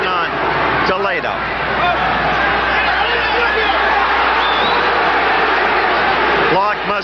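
Boxing crowd at a 1980 US-Cuba heavyweight bout between Teófilo Stevenson and Jimmy Clark, a steady loud roar of jeering and babble aimed at the referee, sustained throughout with no pauses.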